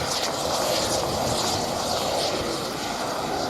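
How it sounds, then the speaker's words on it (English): An Italian Air Force Eurofighter Typhoon rolls out at Fairford, a quiet, steady jet whine and hiss hanging at a distance throughout the short stretch. "There's the F-2008 Typhoon of the Italian Air Force rolling out."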